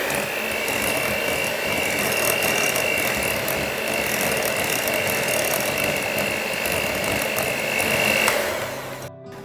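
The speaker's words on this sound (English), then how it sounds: "we'll just add those in and give them a quick whisk as well" Finely ground almonds are whisked into a chocolate soufflé batter in a bowl with an electric mixer, a steady high-pitched motor whine with gritty whirring, continuous and close, stopping at the end.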